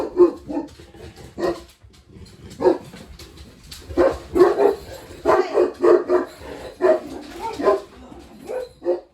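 A dog barks in repeated bursts as another dog walks past outside, the loud barks and yips coming in clusters with short pauses between them.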